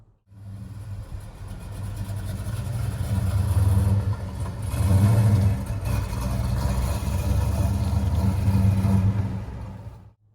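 A 1968 Plymouth Road Runner with a 450 hp engine and manual gearbox rumbles loudly while driving, its deep engine note swelling with revs in waves over ten seconds.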